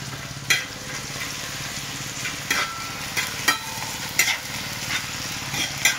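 Tomato and green garlic paste sizzling in a hot pan for egg kheema, a steady crackling fry with occasional sharp scraping clinks as it is stirred.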